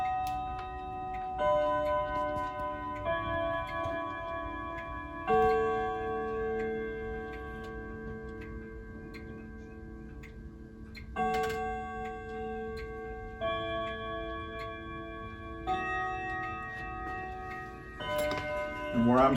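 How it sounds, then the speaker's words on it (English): A grandfather clock plays the slow Westminster chime, each note ringing out clearly and lingering in a long sustained decay, heard close and alone in a quiet room. "you'll notice as soon as I make it chime, the Big Ben notes, the Westminster chime is slow, but then you'll hear the great striking 12-hour gongs"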